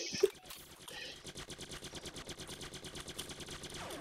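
Rapid automatic gunfire in an online shooter game rattles in a fast, even burst of repeated shots, fairly faint and continuous throughout, with a faint voice.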